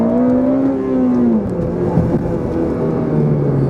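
A Honda Civic Type R FN2 with short gearing revving up through the gears, loud engine note climbing then dropping at each quick shift before pulling again, no voices.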